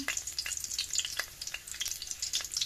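Garlic frying in oil in a pan while being stirred, a steady close sizzle broken by scraping stirs, with no voices.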